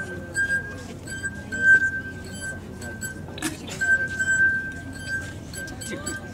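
Glasses played as a musical instrument give a steady sustained ringing tone, held for long stretches with brief breaks, amid soft clinks, under a background of murmuring and some talk.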